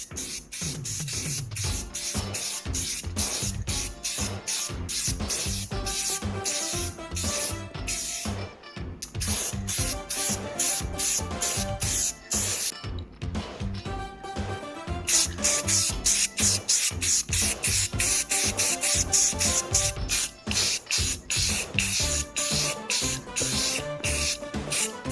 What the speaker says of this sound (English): I'm going to go ahead and put this base coat on.